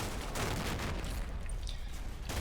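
Distant small-arms fire from infantry in the Combat Mission war game crackles in dense overlapping bursts under steady battlefield noise, with a sharper report at the very end.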